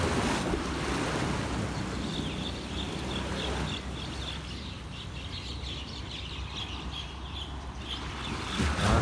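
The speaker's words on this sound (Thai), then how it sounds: "เสียงคลื่นของทะเลอ่ะเมื่อกี้เนาะ" Sea waves wash onto the shore in a broad, continuous roar mixed with wind noise, swelling and receding with a soft hiss, with no voices.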